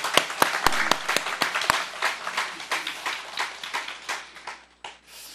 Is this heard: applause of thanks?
yes